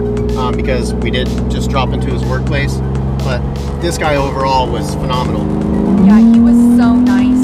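A truck engine roars steadily while driving, a dense low drone that climbs in pitch near the end, with people talking over it throughout.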